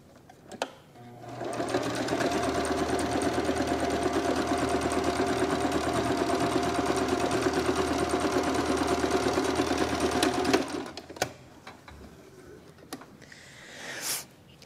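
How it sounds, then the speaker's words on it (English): Sewing machine stitching seams on a medicine bag, a steady close mechanical whir and rapid needle chatter running for about ten seconds before stopping, followed by a few handling noises. "So give me a second here, I gotta sew down these ribbons."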